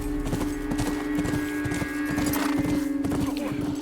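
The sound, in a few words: horse hooves clip-clopping in the video game The Last of Us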